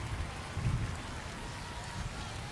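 Steady rain hisses evenly over a baseball game in RTTS, with a soft low rumble beneath it and no breaks in the wash.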